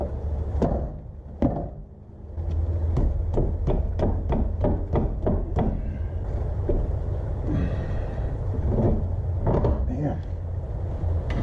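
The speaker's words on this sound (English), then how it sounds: "If they're stuck like that, just give it a kick. Usually it'll break it free" Kicks strike a stuck aluminum wheel on a Chrysler Concorde, corroded onto the rear hub, giving a run of about a dozen sharp metallic thuds in quick succession against steady background noise, with scattered knocks afterward.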